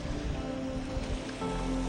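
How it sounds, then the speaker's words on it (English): Waves wash against the shore of Pitt Lake in a 20-kilometer-an-hour wind, a steady broad rushing with low wind buffeting on the microphone, no voices. "20-kilometer-an-hour wind with waves."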